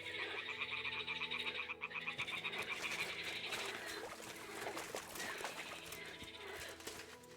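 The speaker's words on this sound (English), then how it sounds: "Ah, the toads are croaking here." Toads croak in a rapid, continuous trilling chorus in the Kingdom Come Deliverance 2 game world, fairly faint and fading after a few seconds into a mix of scattered ambient sounds.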